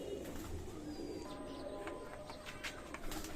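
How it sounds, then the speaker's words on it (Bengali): A teddy pigeon pair coos at a fancy pigeon market, with soft low repeated coos and faint chirps under a steady background hum. "কবুতর জোড়া দেখেন"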